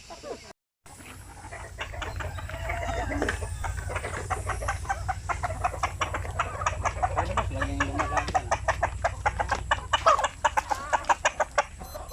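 Zampen native chickens cluck continuously in a close, busy flock, with repeated short rhythmic clucks building over a low background rumble.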